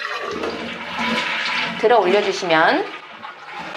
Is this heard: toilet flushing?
yes